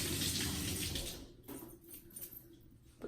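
Running tap water rinsing a fluffy makeup brush in a sink, a steady broadband splash that is loud at first, then thins out into softer, uneven trickling near the end, with no voices.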